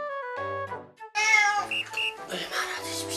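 Several cats meow in the morning as breakfast bowls are readied, clear harmonic cries repeating one after another with brief gaps and overlapping calls, some drawn out and some short.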